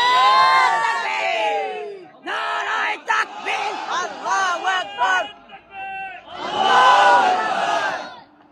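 At a live Islamic cultural program in Bhola, Bangladesh, a crowd shouts takbir in loud call-and-response bursts, with several chanted shouts rising and falling over about eight seconds.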